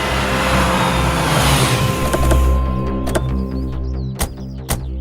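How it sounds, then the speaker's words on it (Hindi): Car reversing on a roadside location, a steady engine drone with a rising rev, followed by a few sharp clicks and thumps as it settles. "चलिए, आप गाड़ी को पीछे लेके जाइए।"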